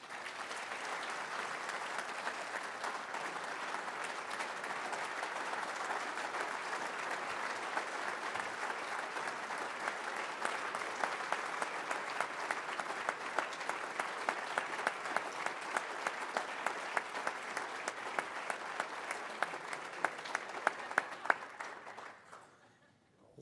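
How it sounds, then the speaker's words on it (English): A long round of applause fills the room at the 2017 USBC Hall of Fame induction ceremony, steady clapping from a large audience that thins into a few scattered claps before fading out. "Let's have one more round of applause for all of the Hall of Famers in attendance here today."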